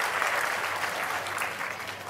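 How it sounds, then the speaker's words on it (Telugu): An audience at a mega parents–teachers meeting gives a child a burst of loud, continuous clapping that stays steady throughout, with no voices above it. "గట్టిగా చప్పట్లు కొట్టి అందరూ కూడా అభినందించండి."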